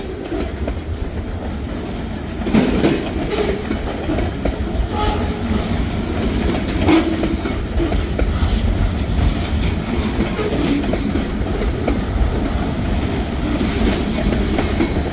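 A freight train rumbles steadily past nearby, a loud continuous roar of wheels and rolling cars with rhythmic clatter throughout.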